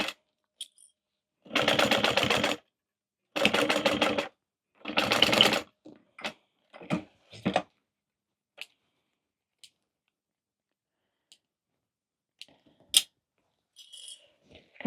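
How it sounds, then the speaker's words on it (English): Sewing machine running three short bursts of stitching along a full seam allowance on the lining of a waist pack, followed by scattered small clicks and handling noises in a quiet room. "And then we are stitching that full seam allowance."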